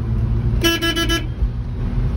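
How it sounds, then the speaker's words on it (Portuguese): A single short Volkswagen Kombi van horn blast sounds over a steady engine rumble, lasting about half a second. "Buzina, buzina."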